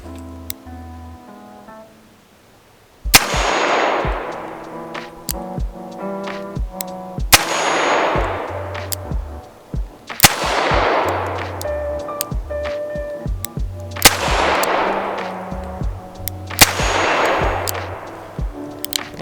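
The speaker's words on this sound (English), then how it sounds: "I can of course shoot .38 Special through it, so I'm going to start out light with that." Loud .38 Special 125-grain FMJ rounds fired from a Smith & Wesson Performance Center revolver, five sharp reports spaced a few seconds apart, each ringing out with echo, and quiet handling noises between them.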